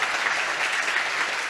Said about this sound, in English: let's first give Matthew a big round of applause